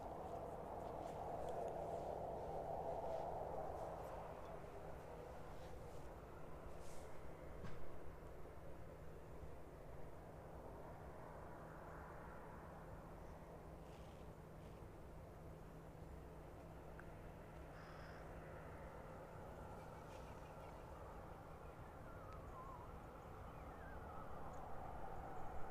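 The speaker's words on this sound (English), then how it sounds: "But that Rhino Air is starting to taxi out now" A Rhino Air aircraft taxiing out at East Midlands Airport in the evening, a low steady engine drone and hum rising and falling slightly, moderately distant, with faint background noise and no talk.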